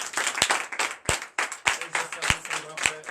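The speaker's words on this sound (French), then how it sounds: "je vous demande d'applaudir très fort" A church congregation at a Sunday service in Comè, Benin, claps loudly in sharp, irregular bursts that build into applause, with voices murmuring underneath.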